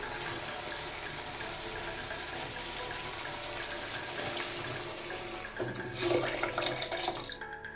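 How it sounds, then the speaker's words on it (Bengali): Water is poured into a pot of red lentils cooking with tomato, a steady running splash that grows louder and more gushing near the end, with no talking. "আরও কিছুটা জল একবারে দিয়ে দিচ্ছি যাতে ডালটা ভালোভাবে সিদ্ধ হয়ে যায়"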